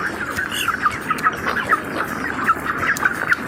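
Chickens cluck and squawk in a rhythmic run of short, fairly close calls, repeating about twice a second over a soft background hum.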